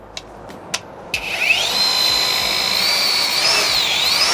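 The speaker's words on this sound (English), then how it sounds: "I invested into the wireless polishers. So this is the brand new Roops polisher." A brand-new cordless Rupes polisher, a wireless detailing polisher, spins up after a few brief clicks into a steady, loud, close high whine that shifts slightly in pitch as it runs, alone without talk.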